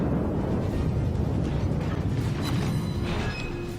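Torpedo hits in World of Warships ring out as deep, rumbling explosions, one continuous heavy boom that fades slightly toward the end.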